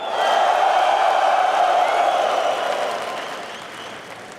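Dense applause and cheering fill an esports arena at the PGL Astana 2025 playoffs, loud at first and then slowly fading over a few seconds.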